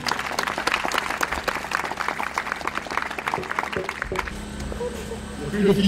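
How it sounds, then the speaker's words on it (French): Audience applause at an award ceremony after a best documentary prize is announced, dense clapping for about four seconds that thins and fades, with faint voices and crowd noise rising near the end. "Applaudissez très fort."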